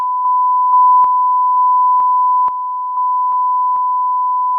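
Censorship bleeps sound as a steady loud 1 kHz tone lasting several seconds, broken by faint clicks and small level jumps where it is spliced, with no voices.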